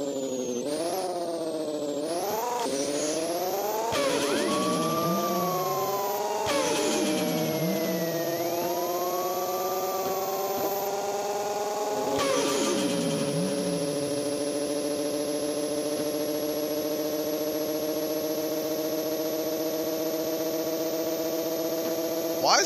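Acura Integra with a Spoon engine in the Pixel Car Racer video game, revving hard through repeated gear pulls, its loud rising engine whine dropping sharply at each shift, then settling into a sustained high drone.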